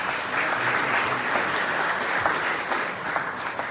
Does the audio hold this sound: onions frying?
no